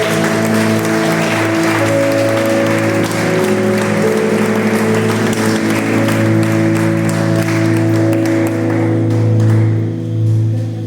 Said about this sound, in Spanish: Denle un fuerte aplauso al que vive en nosotros